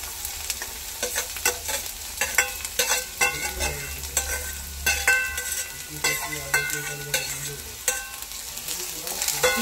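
Moth beans and onions are stir-fried in a pan over a steady sizzle, with frequent rhythmic scraping and clattering strokes of a spatula close up and no talking.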